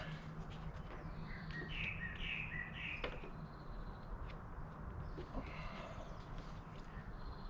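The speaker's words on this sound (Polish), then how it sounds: "Ptaszki tu kurde szaleją jak wściekłe." Small birds chirp busily outdoors during pipe assembly work, faint bright tweets in short clusters over a low steady background hum, quiet and somewhat distant.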